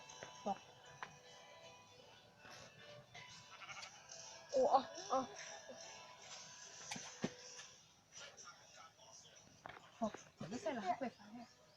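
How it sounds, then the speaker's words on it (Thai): Sheep bleating in the video game Minecraft, a few short bleats scattered among clicks and game sounds, with a person talking at times. "ว่าแล้วทำไมแกะมันมาตรงนี้ได้"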